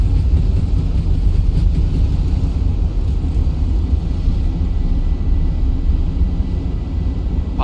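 Fenix A320 airliner with IAE jet engines at full takeoff thrust in a flight simulator, a steady, loud broadband roar with deep rumble holding constant throughout, with no voices.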